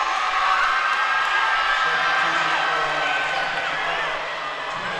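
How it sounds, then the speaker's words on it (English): A high school basketball crowd at a Southwest DeKalb home game, cheering and shouting in a gym: a broad, steady roar of many voices that fades slightly toward the end, with a commentator talking over it. "As this crowd is getting into it."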